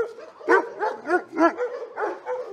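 A large dog at a Hajnówka animal shelter barks in a series of agitated, yelping barks close by, with a rapid irregular rhythm.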